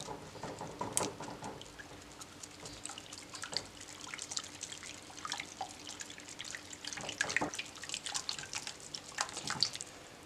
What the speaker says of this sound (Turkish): Yumurtayı iyice karıştırdım.